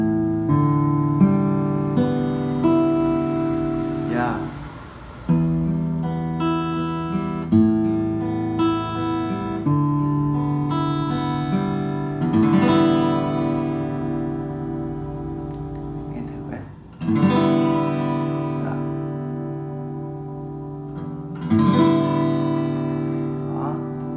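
Solid natural-wood acoustic guitar playing a hymn-like song, with full strummed chords ringing steadily and sharper strums recurring every few seconds, close and clear with no talking.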